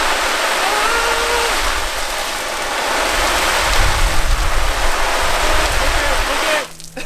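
A garden hose sprays a hard, continuous stream of water onto a Canada Goose Crofton down jacket being worn, hissing loudly and steadily for several seconds before the flow briefly breaks near the end.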